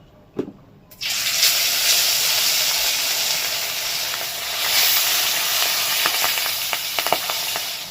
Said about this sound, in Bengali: তেলটা পুরোপুরি গরম করে নিয়েছি এবার মাছগুলোকে কড়া করে ভেজে নেব